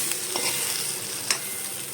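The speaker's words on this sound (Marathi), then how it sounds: "हे तेलावरती आता आपण चांगलं परतवून घेतोय" Okra stir-fried in oil with leftover masala, giving a steady close sizzle broken by a few soft scraping strokes of a spatula against the pan.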